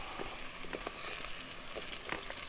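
Strips of carrot, snake gourd and other cut vegetables frying together in oil in a pan, a dense continuous sizzle with faint scraping stirs, fairly quiet and heard alone.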